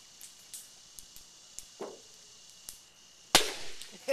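Two bottle rockets burst in a gallon of water, preceded by a few small sharp ticks and a brief hiss, then one loud combined explosive crack with a fizzing tail near the end.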